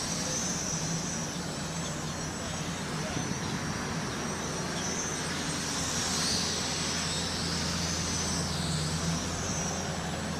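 SYMA X14 toy quadcopter in flight, giving off a continuous high-pitched propeller whine with a steady buzzing hum that swells slightly as it moves, heard alone at moderate loudness.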